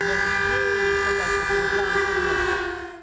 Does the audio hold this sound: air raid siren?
yes